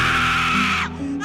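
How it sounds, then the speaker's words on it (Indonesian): A woman screams hysterically in a film scene, a loud, sustained wailing cry close up that breaks off near the end before resuming faintly. "Dia mulai menarik rambutnya dan berteriak histeris."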